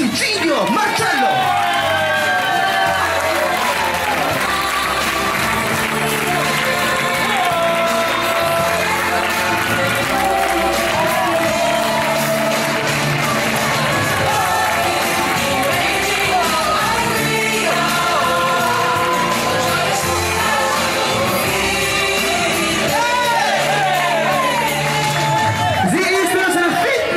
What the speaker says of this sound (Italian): Un grosso applauso, un grandissimo applauso per il nostro Super Franci Giglio Marcello!